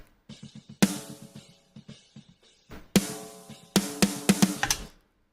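Four layered, heavily processed snare drum tracks hit together in a rock mix, with ghost notes and rolls building into loud, cracking accents and a final flurry of hits.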